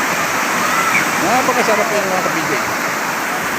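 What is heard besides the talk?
strong water flow at a bathing spot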